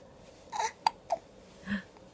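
An 8-week-old baby hiccups four times in soft, separate catches spread over about two seconds, close and quiet, with faint breathy sounds between and no talking.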